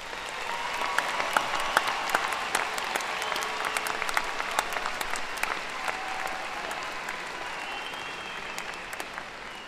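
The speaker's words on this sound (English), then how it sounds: "Please join me for another round of applause for these Spartans." Applause for graduating students at a Mayo High School commencement ceremony in Rochester, dense steady clapping from a large audience that fills the whole stretch and slowly thins toward the end.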